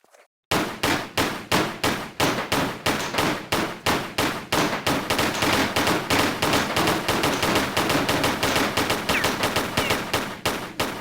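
Lara fires her handguns in Tomb Raider III Remastered, a long steady stream of sharp, loud, evenly spaced shots continuing for around ten seconds after a brief quiet start.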